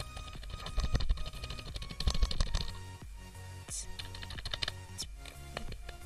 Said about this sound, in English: it's mechanical keyboard, semi-mechanical. It doesn't make a lot of noise. But listen to this bass part.